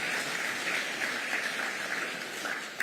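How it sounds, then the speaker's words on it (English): A workshop audience in Masvingo, Zimbabwe, applauds in a smooth, dense wash of clapping that stays level and moderately distant throughout the short stretch. "Let's give him a round of applause again."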